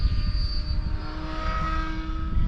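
A model helicopter in an F3C-style 180-degree autorotation with the motor at idle, giving a steady airborne drone with faint whining tones at mid distance and no talking.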